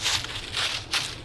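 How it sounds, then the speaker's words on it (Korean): Footsteps crunch through dry fallen leaves outdoors, a few soft rustling steps in an even rhythm, close and moderately quiet with no voices. "낙엽 밟는 소리 들리시죠?"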